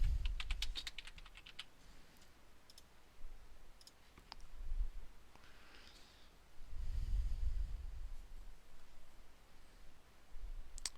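Bursts of rapid clicking keystrokes on a computer keyboard as a search is typed, close and fairly quiet, separated by short pauses and soft breathing.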